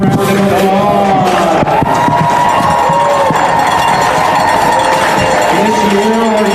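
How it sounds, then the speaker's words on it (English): Crowd at a Steamboat Sailors ice hockey game cheering and clapping for the U19 girls' hockey seniors, a loud, steady roar that fills the whole stretch, with shouts and a few voices rising above it. "Let's give our Lady Hockey Sailor seniors a big round of applause."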